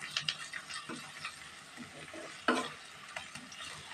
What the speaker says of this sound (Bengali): 1 টেবিল স্পুন রসুন বাটা, 1 টেবিল স্পুন আদা বাটা দিয়ে আবারও ভালোভাবে একটু মিক্সড করে নিলাম।